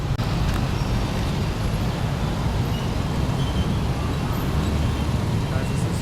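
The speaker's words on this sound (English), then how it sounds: "the traffic just doesn't die" Loud street traffic rumbles and roars steadily nearby in Ho Chi Minh City, Vietnam, a constant wash of engine noise with no letup.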